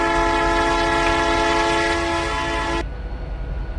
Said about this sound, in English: It does sound like the same horn as this.